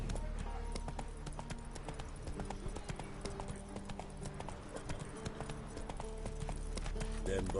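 Hooves of a horse galloping in The Witcher 3 video game, a steady rapid clip-clop running throughout over a low rumbling game soundtrack, with faint voices in the background.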